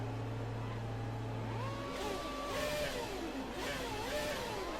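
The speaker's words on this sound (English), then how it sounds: "Oh, I hear that engine." A Renault Formula 1 engine in the game F1 2020 idles then revs up and down several times in quick, rising and falling bursts, moderately loud, with no talking.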